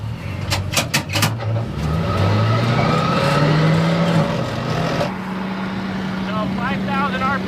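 A recovery truck's engine drones loudly as it picks up speed on a snowy route, the pitch rising steadily before shifting, with voices talking over it.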